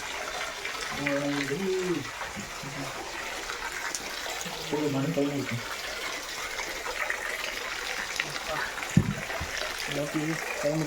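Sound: hidden waterfall in Jogimatti, flowing water

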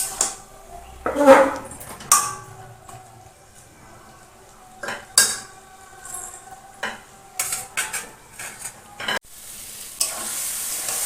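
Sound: stirring taro leaves with fish head cooking in a pan

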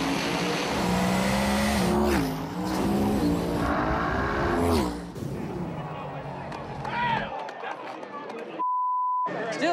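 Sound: 1963 twin turbo Chevy II drag car racing

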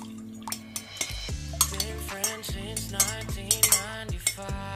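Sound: stirring iced tea with a spoon

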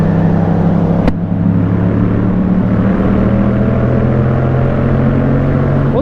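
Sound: Yamaha MT-07 motorcycle accelerating through the gears

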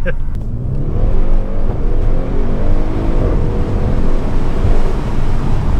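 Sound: Audi RS6 Performance accelerating out of a junction

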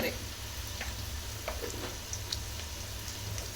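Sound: garlic snack frying in a pan

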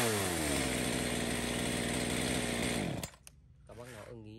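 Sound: Ryobi household chainsaw running, 38 mm cylinder

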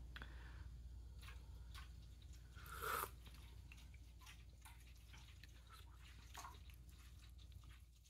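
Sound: pet drinking from its water fountain

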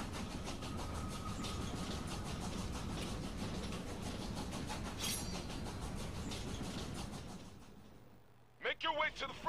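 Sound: train moving along the rails in the video game Killer is Dead

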